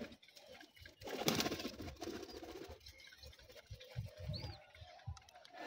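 Pigeons coo beside a young pigeon chick that cannot yet walk, giving low, rhythmic pulses among rustling and shuffling nearby.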